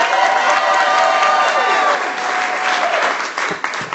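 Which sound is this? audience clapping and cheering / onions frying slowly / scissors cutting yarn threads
audience clapping and cheering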